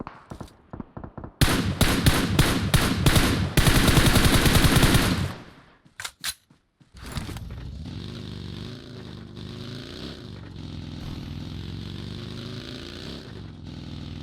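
Loud bursts of automatic machine gun fire in a Turkish battle royale shooter session, rapid rattling volleys in two close clusters, followed by a softer engine-like drone.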